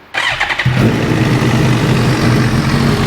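A rebuilt Suzuki GSXR 1000 motorcycle engine cranks over and fires for the first time, then settles into a loud, steady idle close by with no talking.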